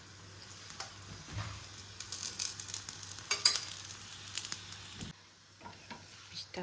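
Food being toasted and fried in white oil in a home kitchen pan, giving a faint crackling sizzle with intermittent clinks and scrapes, a low hum underneath, then a brief quiet spell near the end.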